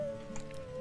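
Wolf howl in the video game WolfQuest, a steady sustained tone held through a short moment at moderate level, with faint game ambience beneath.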